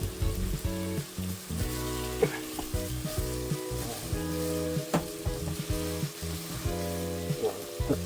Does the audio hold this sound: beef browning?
yes